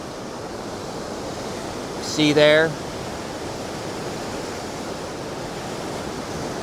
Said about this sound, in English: The water is still extremely powerful, very, very dangerous.